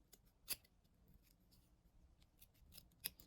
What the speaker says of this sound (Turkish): Şimdi ardından şu kısımları makasla